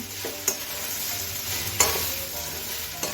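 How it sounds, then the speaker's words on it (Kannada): Okra fried in a pan with a steady close sizzle while a spatula stirs and scrapes, a few sharper metallic taps against the pan, no talk. "ಇದೇ ಪಾತ್ರದಲ್ಲಿ ಬೆಂಡೆಕಾಯಿ ಫ್ರೈ ಮಾಡ್ತೀನಿ"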